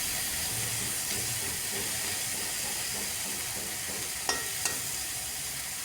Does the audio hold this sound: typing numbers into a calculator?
no